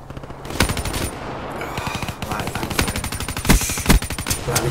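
Light machine gun fire in a first-person shooter, a Dingo LMG loosed in rapid sustained bursts with dense, loud, continuous crackling and a few heavier shots and impacts layered in.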